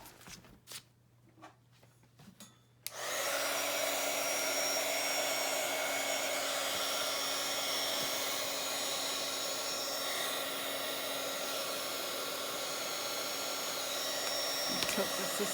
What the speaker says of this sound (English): let's dry this, heat this up, see what happens.